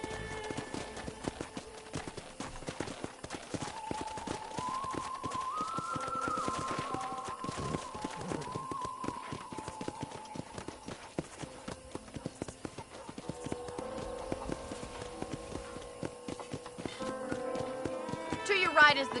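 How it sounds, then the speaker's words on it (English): A horse in the video game Red Dead Redemption gallops with a steady rapid clip-clop of hooves throughout, while game characters talk over it and background music plays. "let's see if you can still ride a horse"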